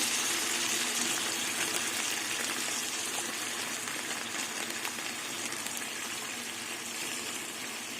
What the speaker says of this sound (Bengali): এবার আমি মিক্সি বাটি ধোয়া জল দিয়ে দেবো যাতে মশলাটা পুড়ে না যায়